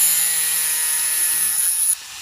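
A Dremel rotary tool whines at high pitch while cutting a plastic Tamiya mini 4WD body at a 45-degree angle, sustained for about two seconds before abruptly cutting off.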